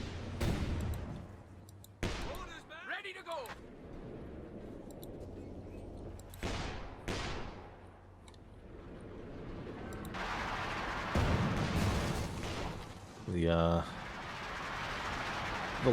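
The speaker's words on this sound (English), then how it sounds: "The logs there just getting bombarded and going to be destroyed, clearing that cover eventually." Artillery shells land in a Company of Heroes 2 battle, several scattered booms and bursts at irregular intervals, some loud and others more distant, with someone talking over much of it.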